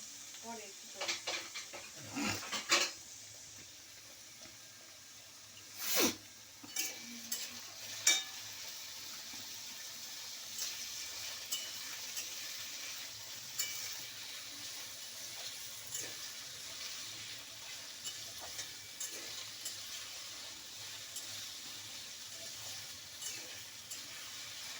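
Diced potatoes fry in a wok with a soft, steady sizzle and occasional louder stirring scrapes and clinks over about twenty-five seconds.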